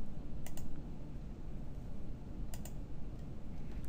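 A computer mouse clicks twice, a few seconds apart, quick faint ticks close by over a low steady background hum.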